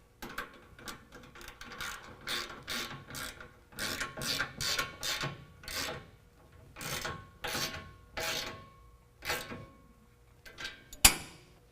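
A ratchet wrench with a 1/2 inch socket tightens Gibson exhaust tips on a 2017 Ford F-150, giving repeated short bursts of ratcheting clicks in an irregular rhythm, close and fairly quiet, ending with a sharper metallic tap.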